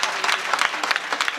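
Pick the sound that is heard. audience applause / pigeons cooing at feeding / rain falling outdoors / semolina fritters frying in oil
audience applause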